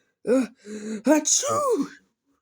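A voice imitates a loud sneeze for a steam engine in a children's story reading, a drawn-out gasping build-up followed by a sharp burst.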